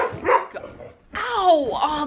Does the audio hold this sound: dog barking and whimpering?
yes